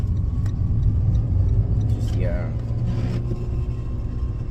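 Car driven hard on a road, a loud steady engine rumble with rising tone through a turn, heard close from inside the cabin.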